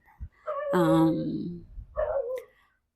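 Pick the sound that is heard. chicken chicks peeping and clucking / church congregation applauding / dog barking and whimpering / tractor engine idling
dog barking and whimpering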